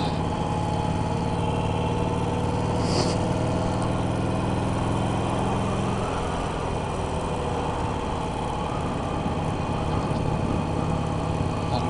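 Steady mid-pitched engine drone from a new Harley-Davidson 883 Iron motorcycle being ridden gently while running in, kept under 3000 RPM, continuous and close with a slight shift in tone partway through.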